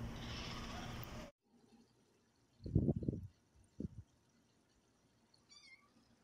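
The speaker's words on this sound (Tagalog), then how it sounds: "ito ang mga puting pusa namin." White stray cats meowing outdoors, a couple of short, fairly loud meows separated by quiet pauses, following a burst of louder noise at the start.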